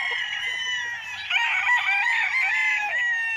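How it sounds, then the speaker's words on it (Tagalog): Many roosters crowing together on a fenced farm lot in Liliw, Laguna, a loud, overlapping chorus of drawn-out calls with clucking, close by, unbroken for a few seconds and without talk. "So ang ingay ng mga manok,"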